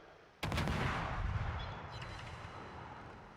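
Kagero destroyer's main guns fire in a video game naval battle: one sudden loud boom followed by a long rumbling decay, with no talk.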